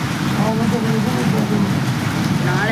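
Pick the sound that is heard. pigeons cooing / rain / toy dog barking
rain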